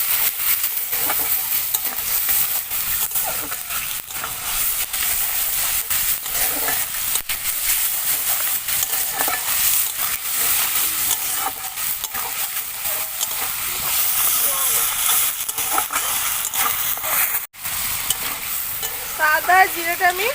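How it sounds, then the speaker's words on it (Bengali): Ginger and cumin frying in a pan, a steady close sizzle with scraping stir strokes running throughout, briefly dipping near the end before resuming. "জিরে গুঁড়ো, আদা আর জিরেটা আমি হালকা একটু কষিয়ে নেব।"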